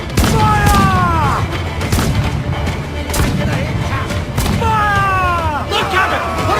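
Ship cannon and mortar fire in Assassin's Creed Black Flag, repeated heavy booms and thuds at irregular intervals amid battle noise, with shouted voices between blasts.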